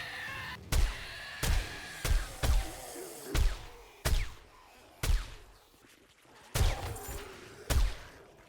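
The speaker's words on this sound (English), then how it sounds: "I don't know who I'm shooting at, but I'm just gonna hit all of them." Gunfire in the survival game 7 Days to Die: nine sharp single shots, spaced roughly a second apart, each with a short decaying tail, moderately close and heard alone.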